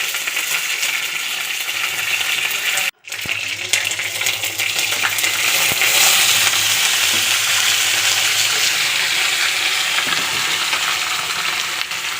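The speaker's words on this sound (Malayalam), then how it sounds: "ഒരു പാത്രം വെച്ച് അതിലേക്ക് കടുക് പൊട്ടിച്ചിട്ട് നമുക്ക് ഇത് റെഡിയാക്കാം" Mustard seeds spluttering in a hot pan make a loud, dense sizzle with crackling pops that runs steadily, broken by one brief silent gap near the start.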